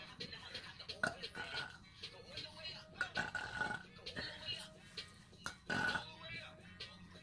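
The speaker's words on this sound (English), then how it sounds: "Those are burps for you." A person doing a burping challenge lets out a run of short burps, several in quick succession with brief gaps, close and moderately loud, with some talk mixed in.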